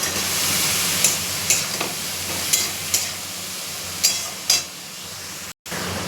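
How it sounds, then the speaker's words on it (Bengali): Pointed gourd, bitter gourd and spiny gourd fry in a pan with a steady, close sizzling hiss, broken by a few soft stirring clicks and one brief cut to silence. "পটল ভাজা হচ্ছে, উচ্ছে আর কাঁকরোল ভাজা হচ্ছে।"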